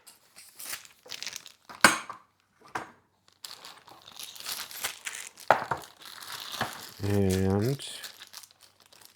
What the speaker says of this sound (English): Let's get the plastic off here.